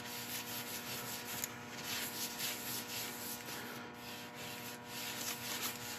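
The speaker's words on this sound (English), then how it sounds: "I'm going to give this a couple of coats with a very light buffing in between" Light buffing of the finish on a figured ash bud vase, a soft continuous rubbing hiss at low level with slight rhythmic swells, close by and with no voices.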